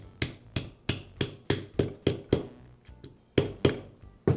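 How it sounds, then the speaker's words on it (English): Rubber mallet blows tap a bearing onto a band saw armature shaft through a socket, about a dozen sharp, evenly spaced knocks, loud and close, with no voices. "I'll tap it in place with the rubber mallet"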